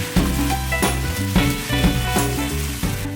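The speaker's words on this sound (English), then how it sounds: "Dump your rice cakes in and give that a shake or two." Rice cakes stir-fry with green onions in a hot pan, sizzling loudly and steadily up close while the pan is shaken, with rhythmic scraping and rattling bursts over the frying.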